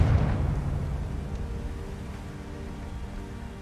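A Confringo spell blast in Hogwarts Legacy erupts as a booming, crackling explosion at the start, then trails off into a fading, rumbling debris hiss over a few seconds.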